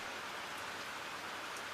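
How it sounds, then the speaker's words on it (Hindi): Steady rain falls with an even, dense hiss, continuous and close, with no voices or other sounds above it. "पर ये बारिश।"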